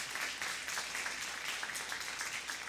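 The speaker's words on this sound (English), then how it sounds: "Just give a round of applause." Round of applause from an audience at a college government meeting, a dense, even clapping that carries on steadily throughout at moderate volume.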